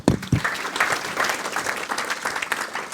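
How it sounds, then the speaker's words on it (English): Audience applause at an AI conference after a speaker's talk, opening with a couple of sharp claps close by, then a steady patter of many hands at moderate loudness. "Let's have another round of applause."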